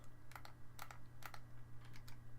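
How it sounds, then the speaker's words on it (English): Keyboard keys click in quick clusters while playing Dark Souls in Darkroot Basin, trying to get a target lock; several bursts of taps sound close and fairly quiet over a steady low hum, with no talking. "In case you could hear the clicking, that was me trying to get a lock on this guy."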